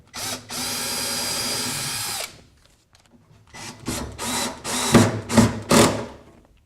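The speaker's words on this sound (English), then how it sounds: "I'm going to go back to the drill bit and then pre-drill the bottom hole" A power drill runs in one steady two-second burst, then several short, rough pulses follow as it pre-drills a hinge screw hole into a wooden lid, close by.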